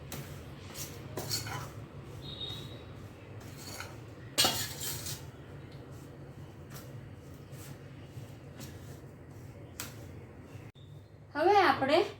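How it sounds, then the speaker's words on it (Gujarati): A spoon stirs chili powder into a tangy methia mango pickle spice mix in a metal vessel, making soft clinks and scrapes under a nearby voice. A louder burst of clatter comes partway through. "હવે એને આપણે હલાવશું બરાબર મિક્સ કરશું"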